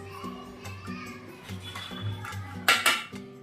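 Spoon clinks and scrapes against a bowl while ingredients are mixed for a quick Gujarati snack, with a louder clatter of utensils near the end and faint background voices.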